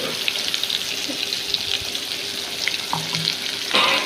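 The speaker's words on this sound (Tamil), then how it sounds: "ஒரு கடாயில் நல்லெண்ணெய் ஊற்றி கருவேப்பிலை பொறிச்சிக்கோங்க" Curry leaves frying in sesame oil in a pan, a steady close crackling sizzle with small pops throughout and a brief louder burst near the end, no talking.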